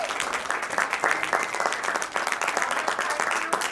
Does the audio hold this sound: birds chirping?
no